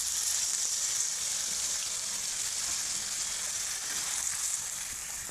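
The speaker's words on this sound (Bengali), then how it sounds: "এখন দিয়ে দেবো এখানে ঝোল, গরম করা জল ছিল, জলটা দিয়ে দিচ্ছি আমি" Hot water poured into a pan of frying chicken curry sets off a loud, steady, hissing sizzle that fills the whole stretch without a break, with no voices over it.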